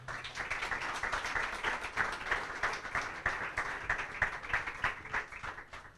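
Audience applause for the Città di Cisterna futsal club after its regional Under-21 win, a steady dense clapping crowd at moderate distance sustained for several seconds without pause.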